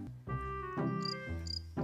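A cricket chirps in steady, sustained trills, with high, buzzy pulses repeating close and clear with no other sound around them.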